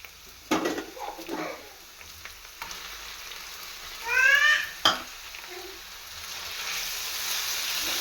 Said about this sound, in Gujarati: હવે આપણે આ ડુંગળીને આપણે સેજ થઈ જાય બ્રાઉન જેવી ત્યાં સુધી આપણે આને સાતળીશું.